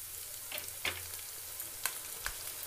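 Fried onions with ginger-garlic paste sizzle softly in a pan for a village-style chicken curry, a faint steady hiss with a few brief stirring clicks.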